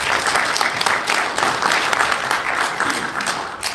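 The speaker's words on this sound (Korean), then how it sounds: "우리 조병완 교수님께 다시 한번 큰 박수 부탁드리겠습니다" A seminar audience at the National Assembly members' hall claps steadily and fairly densely, a sustained round of applause with no talk over it.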